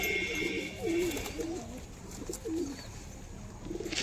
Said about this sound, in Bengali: নর পায়রা